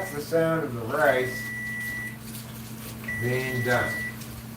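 A rice cooker beeps as the rice finishes, giving two sustained electronic tones a few seconds apart over a quiet kitchen hum while someone talks nearby.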